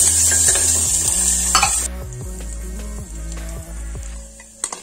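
Sliced onions fry in hot oil until lightly browned, a steady close sizzle under repeated stirring strokes and faint clinks of the utensil against the pan.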